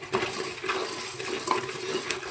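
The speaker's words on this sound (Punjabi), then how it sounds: "ਵੇਖੋ ਫੁੱਟ ਰਹੇ ਛੋਲੇ ਵਧੀਆ ਭੁੱਜ ਰਹੇ ਹੈਗੇ" Black chickpeas roast in a pressure cooker without sand, popping and crackling as they are stirred; a sparse scatter of sharp, light clicks and taps sounds close by at a fairly quiet level, with no talking.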